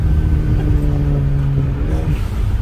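A car driven fast on a mountain road, its engine droning loud and close with a steady revving hum and no talk over it.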